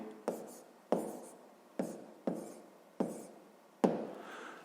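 A hand writes numbers during a math exercise, six sharp, separate tapping strokes spaced under a second apart, each fading quickly, close and quiet.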